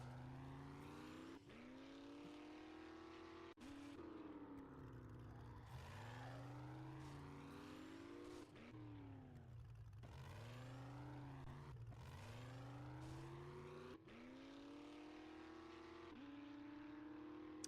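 Truck engine in Dead by Daylight droning and rising in pitch through repeated gear shifts, each climb cut off and starting again, steady and close with no talking.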